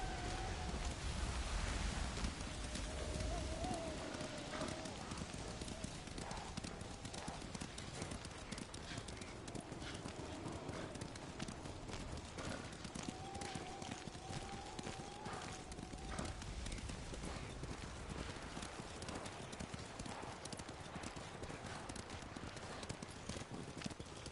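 Steady rhythmic hoofbeats of a horse galloping in the video game Ghost of Tsushima, continuous and fairly close, over a dense background of ambient noise.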